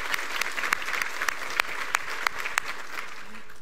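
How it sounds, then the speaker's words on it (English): Steady applause from an audience at a nursing school white coat ceremony, many hands clapping in a dense, even patter with occasional sharper individual claps, heard from a moderate distance. "Yes, you can go ahead and clap."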